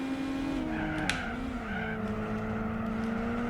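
A Peugeot driven through a coastal town in Gran Turismo 4, its engine droning steadily with shifting pitch and tire squeal, no voices.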